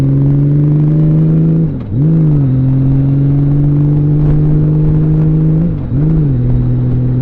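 A Honda Valkyrie motorcycle engine runs close and loud, with a smooth, steady hum. Its pitch briefly dips and recovers twice, and there is no talking.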